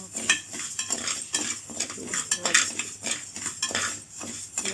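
Raw rice dry-frying in a pan for a traditional sweet, with a utensil scraping and stirring in steady repeated strokes, close and moderately loud, under a faint sizzle.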